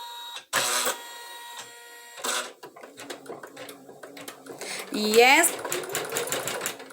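An embroidery machine stitches a placement mark, giving loud rapid mechanical chattering bursts separated by pauses, with a higher whirring run near the end and someone talking over it.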